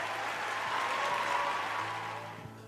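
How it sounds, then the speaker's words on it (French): Steady applause from a studio audience at the season-opening prime of Maajabu Rafiki, a continuous wash of clapping held at moderate level before tapering off at the end. "Est-ce qu'on peut applaudir pour eux, s'il vous plaît?"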